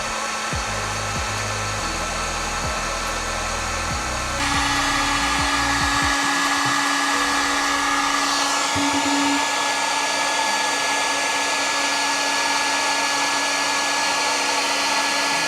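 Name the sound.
heat gun shrinking wire connectors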